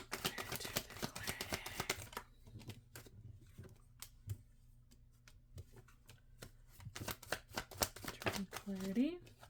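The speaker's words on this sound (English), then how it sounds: "Too much of shuffling." A deck of cards that is getting old is shuffled close by, giving dense riffling bursts and scattered sharp card snaps, with a person talking in between.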